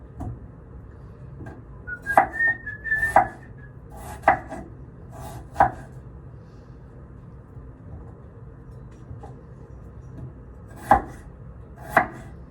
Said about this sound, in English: Cutting the potatoes.